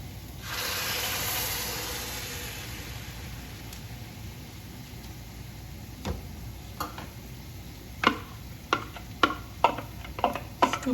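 Tomatoes being stirred into shallots in a pan while cooking a quick tomato sauce: a soft hiss of sizzling at first, then a run of sharp, close utensil taps and scrapes against the pan that grows busier toward the end.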